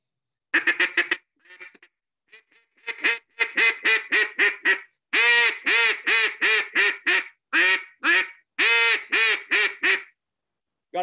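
Cane duck call blown in rapid bursts of loud, raspy quacks, close and clear, with short pauses between strings of calls and no other sound behind them.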